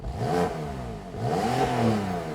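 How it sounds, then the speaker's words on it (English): A Porsche 911 Carrera 4S (991.2) engine revs hard twice with the sports exhaust off, rising and falling in pitch with a throaty exhaust note, close by and loud. "This is with the sports exhaust off"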